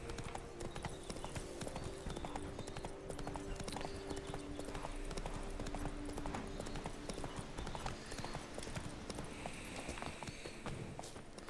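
Horse hooves galloping in Resident Evil 4 Remake, a steady rapid clip-clop rhythm at moderate volume over dense game ambience, running continuously throughout.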